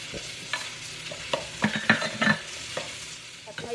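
Onions sautéing in a little oil in a pot, a faint sizzle under a scatter of soft spatula taps and scrapes, moderately close and without speech.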